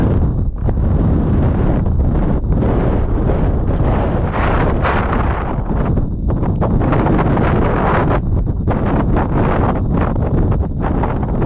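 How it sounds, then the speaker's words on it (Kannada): Strong, steady wind buffets the microphone on a hilltop rock at Bilikal Betta in loud, continuous gusts, a low roaring rush with no pauses and no voices. "ಈಗ ನಿಮ್ ಕೇಳಿಸಿದೆ ಗಾಳಿ ಹೆಂಗ್ ಬರ್ತಿದೆ"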